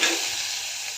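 Potatoes and fresh green peas sauté in a hot pan for aloo matar pulao, giving a steady, close hiss of sizzling that holds for about a second without any voices.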